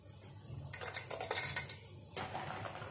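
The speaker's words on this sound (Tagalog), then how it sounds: "Lalagyan ko yung raisins." Raisins drop into a bowl for macaroni salad, a quick run of light clicks and patters, then a second shorter scatter, close and fairly quiet.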